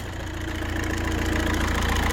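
An Opel car engine idles after a fuel leak repair, running warm with a steady low rumble and an even, fast pulsing throb, loud and close with no talking.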